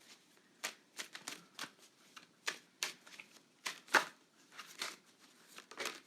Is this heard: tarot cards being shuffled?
yes